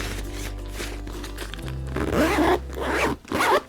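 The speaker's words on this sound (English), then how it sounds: "And those zippers just feel so nice." Zippers on a Boundary Supply Errant backpack are pulled in a few quick, close scratchy strokes, rising and stopping, heard alone with no talking.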